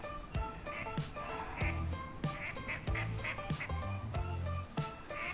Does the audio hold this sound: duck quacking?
yes